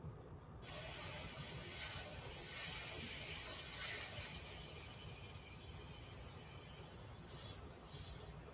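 An airbrush sprays white paint onto a skeleton figure, giving a steady close hiss that starts abruptly and continues alone for several seconds.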